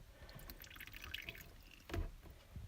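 Dye water being poured into a slop bucket, a faint, close trickle and splash that lasts a couple of seconds with a brief heavier gush near the end.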